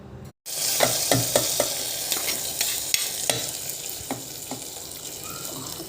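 Tempering for fenugreek leaf dal sizzles loudly and close, a continuous crackling fry broken by repeated sharp clicks of a spoon stirring against the pan.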